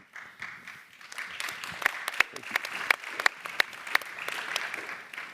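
An audience at a Berlin global conference applauds, the clapping building from scattered claps into a moderate, sustained round with a few sharp claps standing out near the front.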